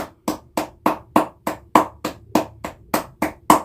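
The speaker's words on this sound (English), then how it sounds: "Clap it up, clap it up, clap it up." Hands clap in a steady, evenly spaced rhythm, about a dozen sharp claps close by with nothing else heard.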